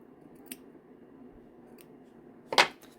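Scissors cut ribbon in a quiet crafting setting: a couple of light snips early on, then one crisp, louder cut near the end over a low background hum.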